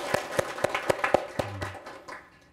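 Small audience at a Buddhist lecture on the Avatamsaka Sutra gives a short round of clapping, a few distinct claps in a steady rhythm that thin out and stop, close and fairly quiet.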